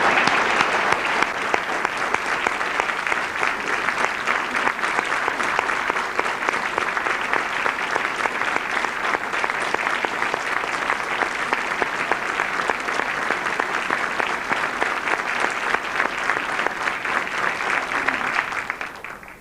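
An audience at a gathering gives a long, sustained round of applause for Mother, with dense, even clapping that continues steadily throughout.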